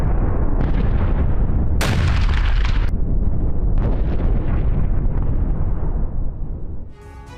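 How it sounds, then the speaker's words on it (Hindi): A drone strike on a Ukrainian drone control center sets off a loud, rumbling explosion with sharp bursts and blasts layered over a continuous roar that fades toward the end. "विस्फोट से तबाह हुआ यूक्रेनी ड्रोन कंट्रोल सेंटर।"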